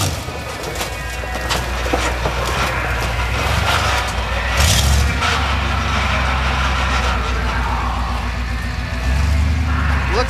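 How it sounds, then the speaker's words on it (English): A roaring monster truck engine thunders and revs as it crushes cars, metal crunching and banging, loud and continuous amid crowd noise. "Coming back around, gonna hit the cars once again, thundering down, smashing those cars."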